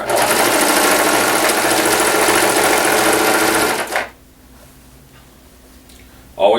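A sewing machine runs fast and steady, stitching a seam of a haunt costume robe for about four seconds with a loud continuous whir, then stops abruptly, leaving quiet room tone.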